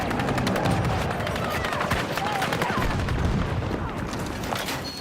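Rapid gunfire rattles through a first-person shooter match, dense overlapping shots and bursts continuing steadily throughout with faint voice underneath.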